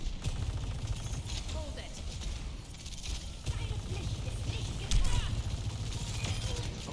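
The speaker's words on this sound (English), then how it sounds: "like her gun shoots really fast." A character's fast-firing gun in a video game, rapid rattling shots running under continuous game noise and talk, with a louder burst near the end.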